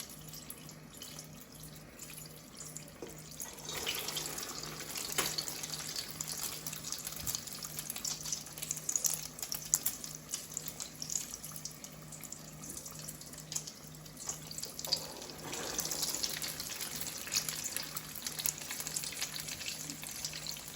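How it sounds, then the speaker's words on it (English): Fish cakes coated in egg wash fry in oil with a steady, soft, close hiss and crackle that swells and fades slightly over about twenty seconds. No voices are heard. "You want them to fry until they have a nice golden brown color."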